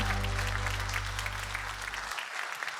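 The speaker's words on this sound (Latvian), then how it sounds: "Aplausi!" Audience applause at a New Year concert fills the hall with dense, steady clapping beneath a sustained low musical tone that cuts off near the end, while the clapping carries on alone.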